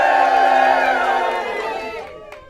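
A crowd cheers and shouts loudly at a woman facing them on Skull Island, a dense roar of many voices that swells at first and then gradually fades.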